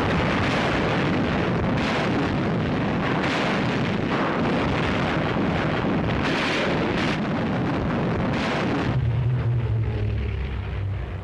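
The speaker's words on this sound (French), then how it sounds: "Ils harcèlent leurs adversaires et larguent des bombes chimiques" Italian aircraft bombing during the Abyssinian war, with dense rumbling explosions and bursts rolling continuously over a noisy, wind-buffeted background, ending in a lower sustained rumble.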